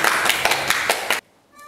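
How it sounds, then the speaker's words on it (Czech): Applause from the audience at a workshop gathering in Strašecí: dense, fast clapping for just over a second, then it cuts off abruptly into near silence with faint tones. "potlesk."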